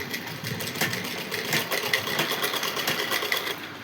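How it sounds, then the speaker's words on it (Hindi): Sewing machine stitching a pocket with a half-inch margin, a steady fast mechanical whir with rapid needle clatter running continuously at close range, no talking. "मैं इस पर की जेब पे सिलाई लगा रही हूँ आधा इंच मार्जिन लेके"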